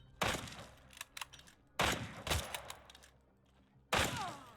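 Gunfire in the video game The Front comes in three loud, close bursts of rapid shots, each cracking sharply and then fading into a short rumble, with quieter gaps between them.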